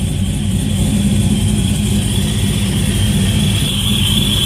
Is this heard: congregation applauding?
no